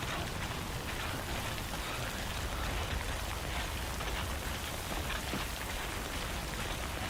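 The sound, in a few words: rain in the video game Death Stranding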